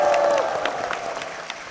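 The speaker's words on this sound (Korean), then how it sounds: "담임 목사님과 교회를 위해서 힘찬 박수 부탁드리겠습니다" Congregation applause for the pastor and church at a Korean church service, a steady wash of clapping that holds loud and gradually thins over a couple of seconds, with a faint voice at the start.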